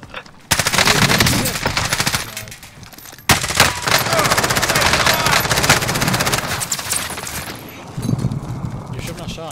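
Rapid automatic gunfire and scattered shots from the Call of Duty Warzone video game, loud and dense through most of the stretch, with bursts overlapping and excited voices talking over the shooting.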